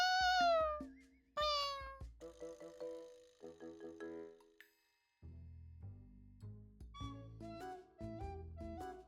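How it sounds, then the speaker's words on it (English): A cat from Honkai Impact 3rd meows repeatedly in clear, close calls with pauses between them, followed by brief game chimes and a soft musical passage. "That's a kitty cat."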